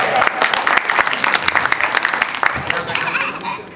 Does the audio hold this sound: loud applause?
yes